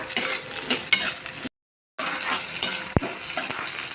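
Ginger and garlic frying in a pan while being stirred, a steady close sizzle with spoon scrapes and clinks, interrupted by a short silent gap, and no one speaking.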